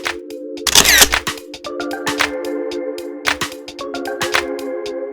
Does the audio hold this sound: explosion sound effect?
no